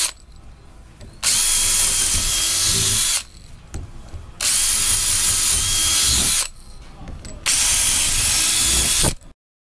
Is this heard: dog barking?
no